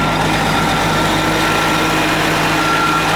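A heavy Detroit Diesel Series 60 12.7 inline six-cylinder turbo diesel in a 1998 MCI 102-EL3 motor coach idles steadily and loudly up close, a constant low rumble with a faint whine over it and no talking.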